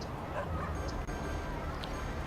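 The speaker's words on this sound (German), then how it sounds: "Das ist ein Hund." Small dog bark from the Cities: Skylines city-building game, a few faint yips heard amid a constant bed of game ambience and talk.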